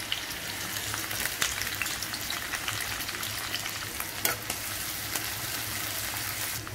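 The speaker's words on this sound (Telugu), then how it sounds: "ఉల్లిపాయ పచ్చిమిరకాయలతో సహా వేసేస్తున్నాను" Sliced onions and green chillies fry in hot oil with a dense, even sizzle and crackle, punctuated by a few clicks and scrapes of stirring, heard up close with no voices.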